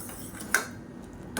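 A spoon clinks against a pot while salt is stirred into a boiling horse gram and curry leaf soup; two short, faint metallic taps sound about a second apart over quiet background hiss.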